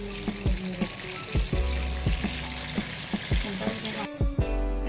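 Round-sliced onions dropped into a hot pan for dried tapioca, frying with a steady loud sizzle broken by repeated sharp clacks of a stirring spoon against the pan, no talking.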